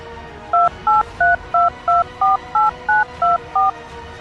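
A touch-tone telephone keypad sends a number as ten crisp, evenly spaced beeps. Each tone is short and loud, with brief gaps in a steady rhythm and no voice over them.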